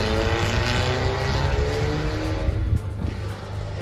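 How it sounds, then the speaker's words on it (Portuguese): A car engine roars steadily nearby, a loud continuous drone that eases a little toward the end as the vehicle pulls away, with no speech over it. "ele vai sair acelerando, quer ver?"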